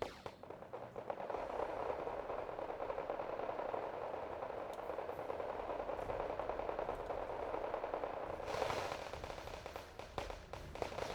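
Autocannon fire from an LAV in the strategy game Wargame Red Dragon, heard as a dense, continuous rattle of rapid shots that swells near the end, moderately quiet with no speech.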